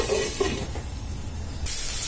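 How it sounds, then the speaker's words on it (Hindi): Chopped medium tomato sizzling in oil in a pan while cooking dum aloo, a steady hiss with a few stirring scrapes and a brighter burst of sizzle toward the end. "अब हम डाल देंगे 1 कटा हुआ मीडियम साइज का टमाटर और इसको भी 5 से 4 मिनट अच्छे से भूनेंगे"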